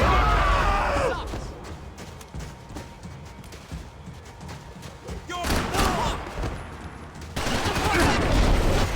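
Gunfire in the Max Payne 3 video game over Hoboken, bursts of rapid shots and thuds coming in waves, loud and close with short quieter gaps between volleys.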